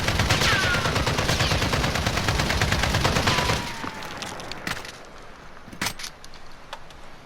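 An RPK light machine gun fired from the hip in Modern Warfare lets off a dense, loud, rapid burst for about three and a half seconds, then stops, leaving a few scattered clicks and clanks of handling.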